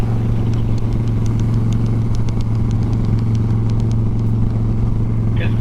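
An 88 cubic inch motorcycle engine drones loud and steady during a ride, a low, continuous exhaust rumble with wind noise and faint clicks over it.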